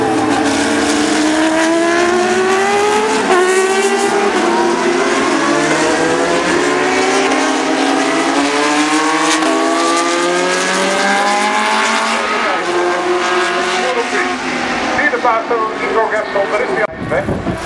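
Formula 3 and FIA GT race cars at the 2013 Zandvoort circuit roar continuously, several engines howling and rising and falling in pitch as they accelerate and pass close by, loud throughout.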